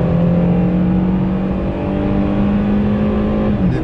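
A Renault Samsung SM6 sedan engine with its sport sound mode, a steady, deep engine drone heard close and loud from inside the car, holding level without speech.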